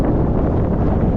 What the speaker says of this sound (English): She's windy, alright.